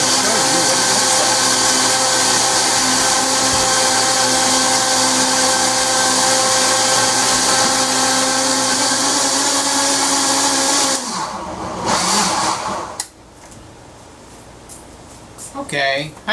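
A kitchen blender whirs steadily while making a breakfast smoothie, loud and close with a constant motor drone for about eleven seconds, then switches off and leaves faint clatter and brief talk.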